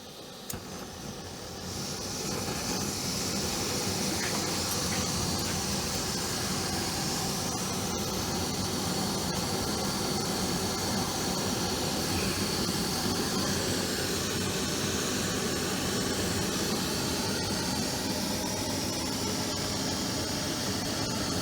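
Mini butane cartridge camping stoves, a BRS and an MSR, burning at full output: a loud, steady roaring hiss of the flame that holds unbroken for twenty seconds, with no talking.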